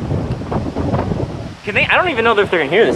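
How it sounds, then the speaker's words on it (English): Strong outdoor wind buffets the microphone with a rough, steady roar, heard beneath people talking throughout. "it's pretty windy"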